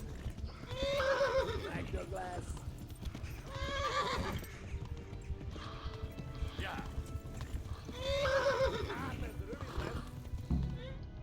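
A horse in the video game Kingdom Come: Deliverance whinnies twice in loud, shaky neighs, with steady hoof clip-clop and a game soundtrack running underneath throughout.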